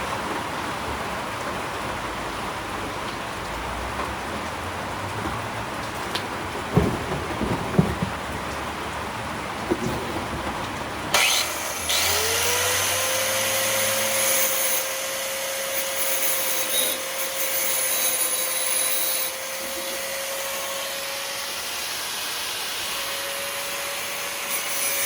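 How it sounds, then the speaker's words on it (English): An angle grinder works over a heater core repair part during a DIY car heater core job, a loud sustained whine starting partway through and holding steady after a quieter stretch of shop noise. "I'll just grind it real quick and should be good to go."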